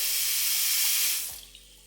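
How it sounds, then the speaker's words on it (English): Water rushes hard from an apartment faucet as the handle is turned to hot, a loud, close hiss that drops off sharply near the end to a weaker flow. "as soon as I turn the handle to hot, the water pressure immediately gets lower."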